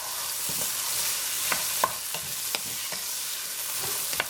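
A spoon stirs ham and vegetable soup with tortellini in a pot, giving a few soft scrapes and clinks over a faint steady simmer.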